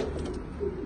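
Pigeons in loft cages give a soft, low coo, one brief call heard close but faint against a muffled background.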